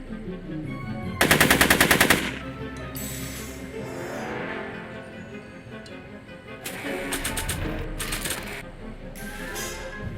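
Bursts of rapid gunfire from the Back to the Future video game, a loud rattling volley near the start and several shorter bursts later, between quieter stretches of game sound.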